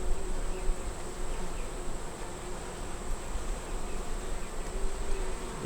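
Honey bees swarm and buzz around an open hive during an inspection, a dense steady hum that fills the whole stretch with no voices.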